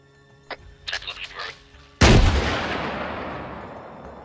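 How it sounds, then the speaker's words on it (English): In Arma 3, an SPG self-propelled gun fires one huge booming shot whose rumble trails off slowly, after someone speaks briefly. "I'm gonna keep taking pot shots at him with this SPG"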